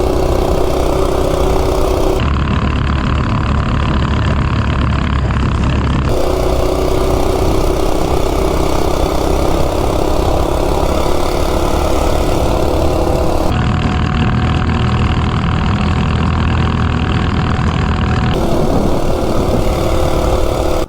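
A Coleman RSV minibike with a stock 196cc engine labors up a hill, a loud, continuous, close engine drone that shifts in pitch and load as it climbs, with heavy wind rumble.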